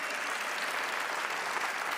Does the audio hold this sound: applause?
yes